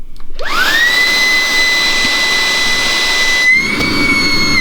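A Xiaomi Dreame T20 cordless vacuum cleaner spins up to a loud, high-pitched motor whine and holds it steady, then briefly shifts tone near the end, close and without talk.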